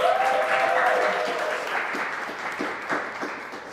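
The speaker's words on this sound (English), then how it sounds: "So can we give her another round of applause?" An audience at a fireside chat on the creative industry claps in sustained applause, a dense even patter that holds steady for the whole stretch and fades slightly toward the end.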